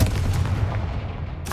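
A Confringo spell blast in Hogwarts Legacy lands as a loud, deep booming rumble that fills the whole moment, fading briefly before a fresh burst hits at the end.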